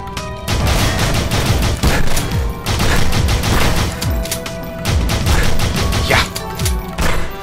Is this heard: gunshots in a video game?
yes